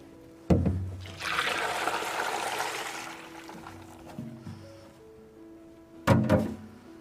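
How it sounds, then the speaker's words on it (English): Water pours into a container of turkey brine, a sustained splashing rush that fades into a trickle, with a few thunks and a sharp knock at the start and again near the end. "Slowly add them into the brine. You want it to completely cover the turkey, so I need to add just a little bit more water."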